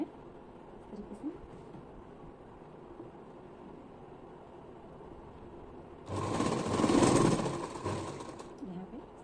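A sewing machine stitches the front seam of a belt onto a salwar, a loud steady whirring burst of about three seconds near the end after a quieter stretch of faint room noise.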